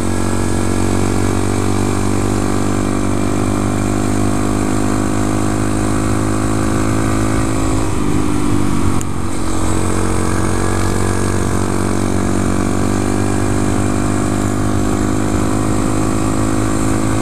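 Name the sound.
2014 Honda Grom motorcycle riding on a road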